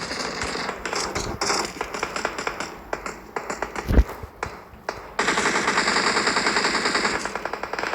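Rapid automatic gunfire rattles in an online shooter video game, bursts of rattling shots coming close and loud, with a sharp blast in the middle and a sustained dense stream of fire toward the end.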